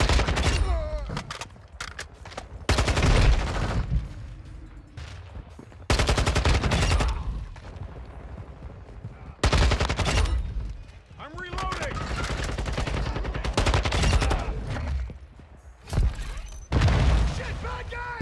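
Heavy gunfire erupts in a Modern Warfare 2 match, loud bursts of automatic rifle fire and booming shots in repeated volleys, broken by short lulls, with players talking over the shooting.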